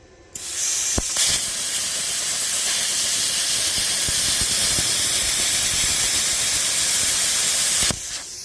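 A CUT50 plasma cutter fires through metal, a loud steady hiss after a sharp start that holds for about seven seconds, then cuts off abruptly.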